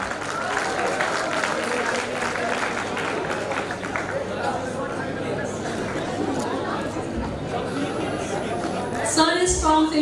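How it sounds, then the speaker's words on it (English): An audience breaks into sustained applause to welcome a dignitary at a live brainstorming session, clapping steady throughout with crowd chatter and voices mixed in. "Give a huge round of applause to welcome the dignitary."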